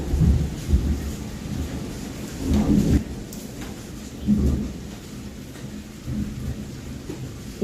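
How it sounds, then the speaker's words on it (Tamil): Thunder rumbles repeatedly through a steady rainstorm, with several heavy low booms rolling over the constant hiss of rain and no voices. "இப்ப இந்த இடி சவுண்ட மட்டும் கேளுங்க."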